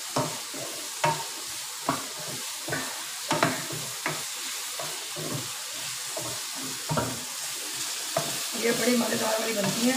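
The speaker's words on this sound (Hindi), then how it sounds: "चले कर देती हूँ इसको मिक्स, और हल्की आँच पर इसको जो मैं छोड़ दूँगी" Okra frying in a pan on low heat while being stirred, with a soft sizzle under regular spatula scrapes and taps, close by, as someone talks over it.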